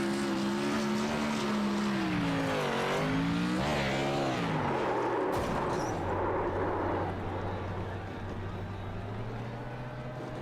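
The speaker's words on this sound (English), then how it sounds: "That's a burnout." A Gen 4 stock race car does a burnout at Legacy Atlanta in a racing video game. The engine note rises and falls loudly, then breaks into harsh tire-squealing roar over a steady low drone.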